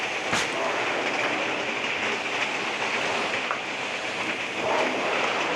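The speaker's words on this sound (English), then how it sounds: "we're slowly starting to steam" A Hoover SteamJet steam mop slowly starts steaming, giving a steady broadband hiss that holds evenly throughout with a few faint clicks, no voices.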